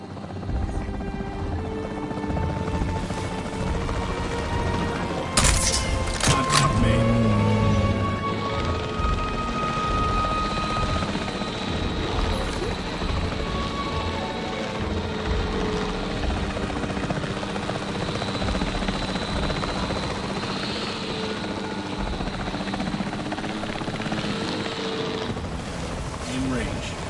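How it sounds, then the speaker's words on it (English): A capture team helicopter in the dinosaur park game Jurassic World Evolution whirs with a steady, loud rotor drone throughout, with brief game effects and voices over it. "The priority needs to be tranquilizing it with the capture team chopper."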